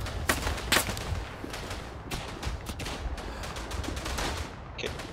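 Gunfire in the First World War game Verdun, a scatter of sharp distant shots and bursts cracking irregularly across several seconds with no talk.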